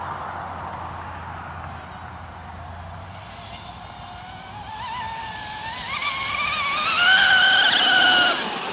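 A Zippkits JAE 33FE RC car runs at full throttle, its motor whine building and rising in pitch as it speeds up, growing louder toward the end over background outdoor noise.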